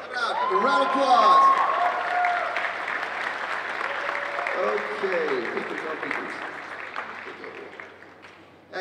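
Audience applause at a cosplay competition at Planet Comicon 2017, a sustained burst of clapping and cheering from a crowd that swells at first and then slowly fades, with an announcer's voice speaking over it.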